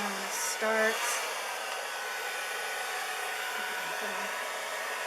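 A hair dryer blows steadily across an acrylic Dutch pour painting, giving a constant, close, loud whooshing hum with a brief higher whine near the start and no pauses.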